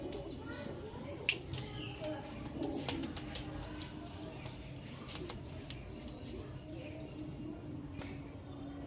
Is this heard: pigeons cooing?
yes